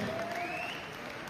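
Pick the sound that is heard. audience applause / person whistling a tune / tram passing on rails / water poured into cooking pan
audience applause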